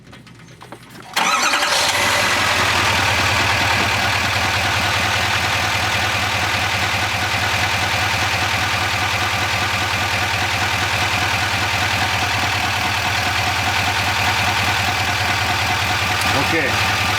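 A 2024 Duramax diesel pickup cranks over and settles into a steady, loud idle right up close, its deep rumble continuing alone for the remainder of the clip.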